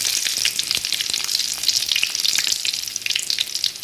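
Chopped chilies and crushed garlic fry in hot oil in a pan, a loud, dense, continuous sizzle heard close up with faint stirring and no talking.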